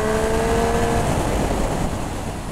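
A 2020 Triumph Street Triple 765 RS, a three-cylinder naked motorcycle with a quickshifter, accelerates hard on the road with a loud, close, rising engine note and wind roar.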